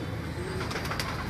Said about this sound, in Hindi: ये कबूतर है जी रामपुरी है,